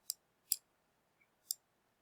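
Three crisp, sharp clicks from a computer mouse while a color is picked in Photoshop, with a fourth very faint tick between them, close and dry over near-silence, irregularly spaced.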